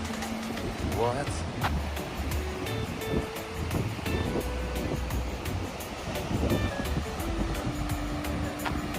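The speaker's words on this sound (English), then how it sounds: "The waves are crashing gently" Surf rolling onto a Malibu beach with steady washing roar and wind buffeting the microphone, continuous and fairly close, with voices talking over it.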